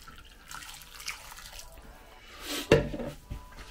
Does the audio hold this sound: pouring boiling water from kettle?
yes